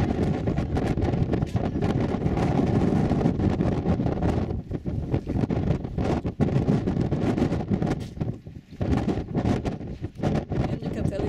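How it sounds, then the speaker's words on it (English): Strong gusty wind at Mount St. Helens buffeting the microphone, loud uneven roaring bursts that rise and drop, with a person speaking now and then over it. "you can tell it's windy"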